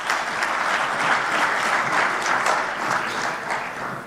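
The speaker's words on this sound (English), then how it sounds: "Let's give him another big round of applause." Audience applause at a formal launch ceremony of the African Peer Review Mechanism, a dense, even wash of many hands clapping that holds steady for several seconds without a break.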